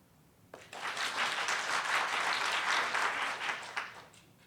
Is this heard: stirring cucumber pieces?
no